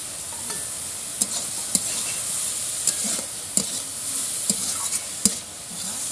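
Mustard greens and pre-fried eggplant frying in a pan give a steady sizzle, with scrapes and clinks from a stirring utensil coming at irregular intervals over the constant hiss.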